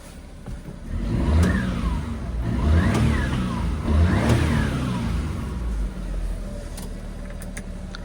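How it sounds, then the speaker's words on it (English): A small kei car engine idles, then revs up sharply three times in a row, each burst climbing and falling back, fairly close by. "Let's give it a rev."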